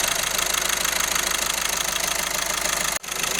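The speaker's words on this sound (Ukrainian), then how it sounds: "На полостом працює так." A Volkswagen Touran 1.6 TDI diesel engine idles at close range, a steady, even clattering rumble with a brief dropout near the end and no voices.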